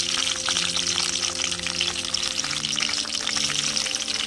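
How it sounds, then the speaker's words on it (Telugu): Slit green chillies fry in oil for tomato chutney, producing a steady, fairly close bubbling sizzle that stays even throughout. "నూనె మధ్యలోకి వెళ్ళి పచ్చిమిర్చి బాగా వేగుతాయి"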